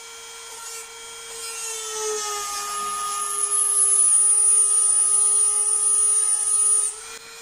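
Drill boring a hole into stone, a steady high whine with a strong tonal hum that rises and intensifies midway, continuing evenly before cutting off near the end, with no voices.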